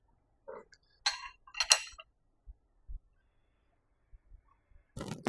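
A wrench tightens a crank bolt at the front of an engine, giving a few sharp metallic clinks and ticks with soft knocks in between, sparse and close in an otherwise quiet space.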